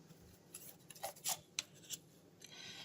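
Crisp papery riffling of a deck of metaphorical associative cards being shuffled in a few short bursts, close by, with quiet rustling between them and no talking.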